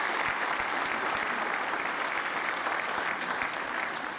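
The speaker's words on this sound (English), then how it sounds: "That's an applause line." An audience applauds steadily and densely throughout a political speech after a reelection, a continuous wash of many hands clapping at full strength with no voices over it.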